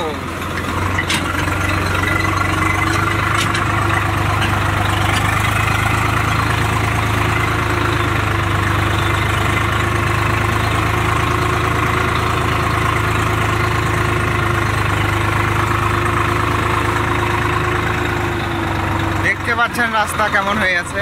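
A Swaraj tractor engine runs steadily in muddy paddy fields, a loud continuous low drone with a constant mechanical hum, and a voice talks over it near the end.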